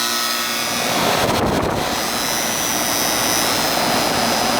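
A Goodman central AC system starts up, a loud broadband roar that swells within the first second and then holds steady and strong to the end.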